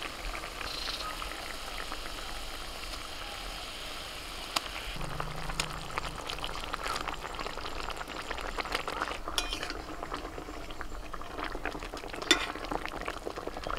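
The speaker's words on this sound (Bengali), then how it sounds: "এখানে গ্রেভিটা ফুটছে" Egg curry gravy simmering in a pan, a soft continuous bubbling and sizzle with scattered clinks and taps of a utensil against the pan.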